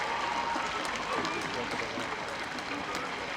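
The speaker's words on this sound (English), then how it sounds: "big round of applause for these players" Crowd applause for hurling players after a county senior hurling final, dense sustained clapping at moderate distance with a voice speaking over it.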